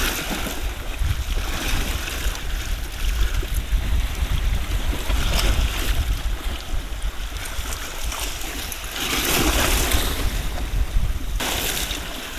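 Sea waves rolling in while fishing from shore, a continuous washing surf roar with wind buffeting the microphone, surging louder toward the end, no voices.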